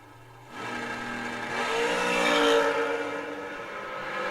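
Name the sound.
drag racing cars launching down the strip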